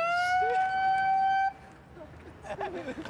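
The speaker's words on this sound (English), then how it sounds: "It has a terrible siren." A harsh, loud siren sounds a steady electronic tone for about a second and a half, then cuts off abruptly and leaves quieter background noise with faint scattered sounds.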